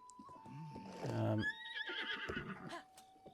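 A horse whinnies in Breath of the Wild, a close, rising-and-falling neigh near a stable, with a steady tone and light hoof or game sounds around it.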